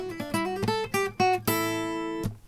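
A short electric guitar lick: a few quick plucked notes, then a bright ringing chord that sustains before one last struck note, heard alone and fairly close.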